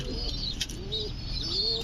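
Soft, low cooing calls from pigeons at a pigeon farm repeat in gentle rising phrases, quiet against a steady background hum, with faint chirps higher up.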